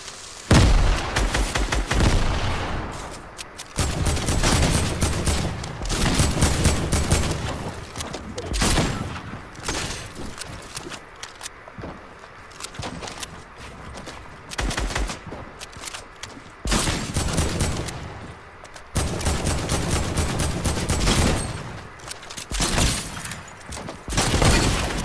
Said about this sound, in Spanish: hay uno disparando con sniper desde bastante lejos